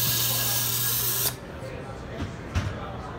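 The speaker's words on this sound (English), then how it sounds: "What we do is feed and drive multiple fasteners to be driven at the same time." An automatic screwdriver machine feeds and drives four screws at once, giving a steady mechanical whir that cuts off abruptly partway through, followed by a few lighter clunks and clicks.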